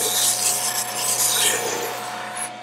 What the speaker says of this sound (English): We need to go back and sand a little more.